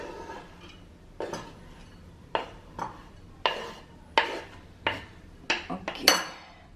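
Freshly cut green leaves for a Wai Wai snack are dropped into a bowl, giving a series of about nine clattering, scraping handfuls against the dish at irregular intervals, close and moderately loud over a quiet kitchen.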